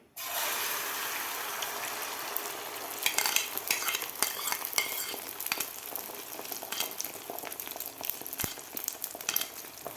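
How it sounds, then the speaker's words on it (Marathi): Beaten egg mixture poured into an oiled pan for an egg Maggi paratha, giving a steady close sizzle with some stirring and scraping clatter throughout, no talk. "आता यामध्ये आपल्याला अंड्याचं मिश्रण घालून घ्यायचं आहे पॅनमध्ये"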